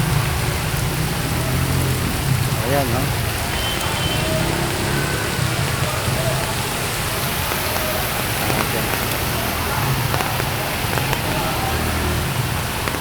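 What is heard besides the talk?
heavy rain pouring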